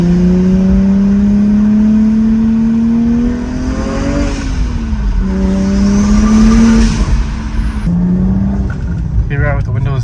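BMW N54 with a straight-pipe mid section and only a rear muffler revs loudly up and down, a raspy droning exhaust note that rises and falls several times before cutting off, heard close.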